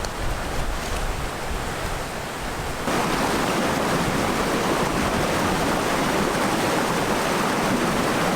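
Rushing water of the Rivière des Galets at about 200 m altitude on La Réunion, a steady broadband roar that grows louder and denser after the first few seconds, continuous and close with no voices.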